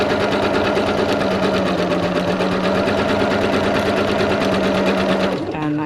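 Sewing machine running a zigzag stitch along a fabric seam edge, a fast, steady mechanical chatter close up that carries on for several seconds before stopping abruptly near the end.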